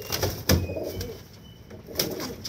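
Pigeons coo in low, throaty repeated calls amid a busy loft of competing birds, with some rustling and wing movement close by.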